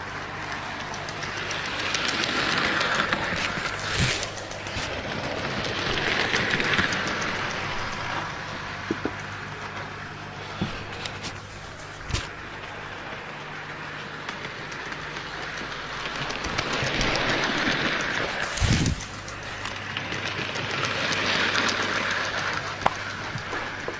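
A Bachmann BR Standard Class 4MT 2-6-0 model locomotive runs around a track, its soft mechanical whirr and clatter swelling and fading as it passes close several times.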